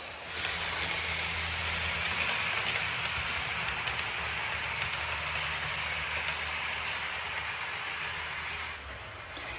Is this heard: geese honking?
no